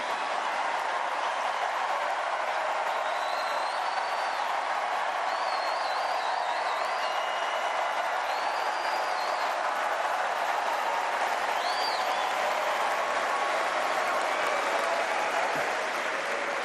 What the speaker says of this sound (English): That got a bit of applause at Pepsi last night.